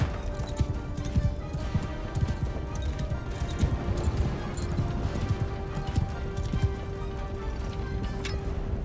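Steady hoofbeats of a horse moving in the video game Mount & Blade II: Bannerlord, a continuous clip-clop rhythm over busy battle noise throughout.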